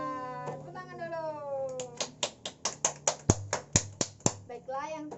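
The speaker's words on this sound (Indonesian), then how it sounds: "Tepuk tangan dulu." A voice meows like a cat, then about a dozen sharp, evenly spaced hand claps by children in a classroom ring out close by, followed by a brief vocal sound.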